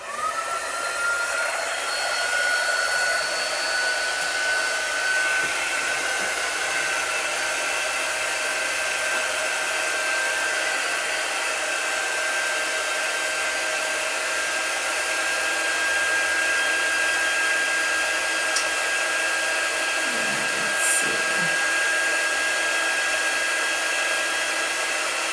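A hair dryer blowing steadily on chalk art at a live chalk-drawing session, a loud, continuous, close whooshing hum that keeps up without a break.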